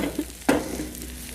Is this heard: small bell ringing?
no